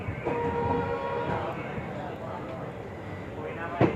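A train departing Ahmedabad railway station rumbles and clatters along while a horn sounds early on, with voices talking over the rail noise.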